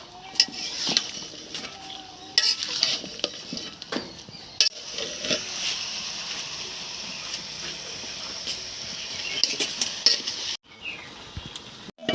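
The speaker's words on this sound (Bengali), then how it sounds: "আমি সুন্দর করে এটা নেড়ে দেব।" A spoon scrapes and clinks against a pan as buffalo meat with spices is stirred, giving irregular close metallic knocks over a low, hissy kitchen background.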